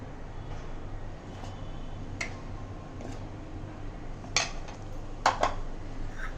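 Sabudana being mixed with crushed peanuts in a bowl for fasting vadas, a faint scrape of utensil against dish with a few sharper clinks near the end, quiet background hum and no talking.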